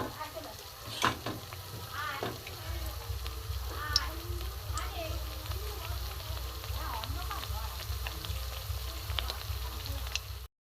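Pitha frying in hot oil gives a steady crackling sizzle throughout, with scattered faint voice-like and clattering sounds over the top.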